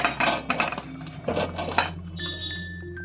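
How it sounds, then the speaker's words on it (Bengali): Fried vegetables being added into gravy in a pan for Saraswati Puja khichdi bhog, with a run of clattering metallic clinks and scrapes of utensil against pan, close and fairly loud, then settling. "এরপর আমি এর মধ্যে যে আমার ভাজা সবজিগুলো ছিল সেগুলো এর মধ্যে দিয়ে"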